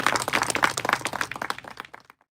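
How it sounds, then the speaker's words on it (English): An audience claps in a sustained round of applause for Captain Garcia-Salas at a memorial ceremony for fallen Canadian soldiers of Latin American origin, dense at first and then thinning into scattered claps before stopping. "Let's give him a round of applause again to Captain"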